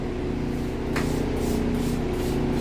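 A spray of water hisses continuously to wash a bug out of cereal, a steady loud rushing over a low constant hum.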